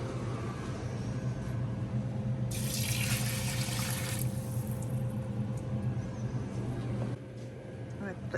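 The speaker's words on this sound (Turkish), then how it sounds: "İki tane de su koyacağız, soğuk su." Cold water poured onto rice in a pot for pilaf, a steady splashing pour for about five seconds, louder in the middle, over a constant low background hum.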